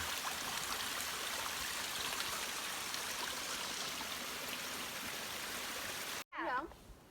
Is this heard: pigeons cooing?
no